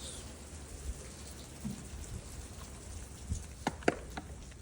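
Steady rain falling outdoors on a ranch, a soft continuous hiss with a few scattered louder drops and taps near the end, no talking.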